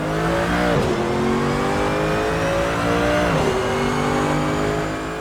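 A GT3 race car driven hard on public roads in Northern Ireland, its engine loud and close, revving up steadily through the gears with two sharp pitch drops at the shifts before climbing again.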